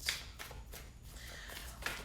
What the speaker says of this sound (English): Y'all see I'm shuffling on camera